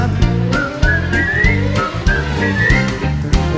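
A melodic whistle carries over a full live band performing at Villa Arconati, the whistled line rising and falling above steady drums and bass.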